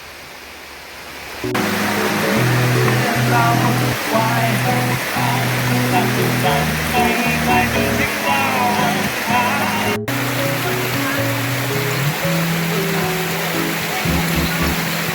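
Heavy rain pours down steadily in a dense, constant hiss, with people talking beneath the downpour throughout.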